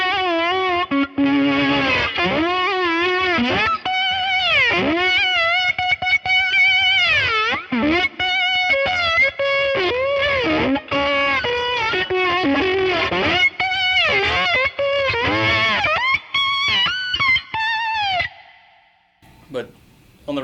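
Electric guitar slide solo run through an octave pitch pedal and distortion, gliding through bending, sliding high notes in a dense, sustained line for about eighteen seconds before cutting off.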